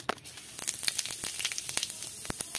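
Cumin seeds sizzle in hot oil in a wok, cooking for a pointed gourd and masoor dal dish, giving a steady crackling hiss with sharp pops scattered through it, close and alone with no talk.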